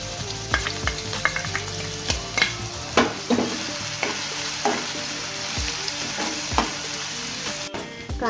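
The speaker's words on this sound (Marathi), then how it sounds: "ह्याच्यामध्ये मी कांदा घालून घेतो." Onion frying in a pan with roasted garlic for a Goan sardine ambot tik curry, a steady close sizzle broken by repeated sharp scraping stirs of a utensil against the pan, with no talking.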